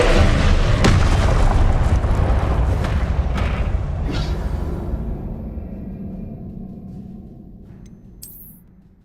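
Confringo explosion spell in the video game Hogwarts Legacy, a loud booming blast with crackling bursts that slowly fades into a rumbling decay, followed by a brief faint high chime near the end.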